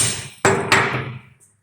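Two sharp metallic hammer whacks in quick succession on a Lisle 40100 hub remover, close and loud, each ringing briefly before fading out.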